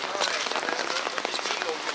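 Heavy rain falls in Sudak, Crimea, a dense steady patter and hiss close by with scattered heavier drops, continuous throughout without pause.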